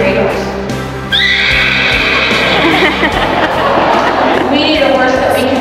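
Horse whinnying at a fall gala: a long, loud neigh rises early and trails on, over a steady crowd and chatter at an event.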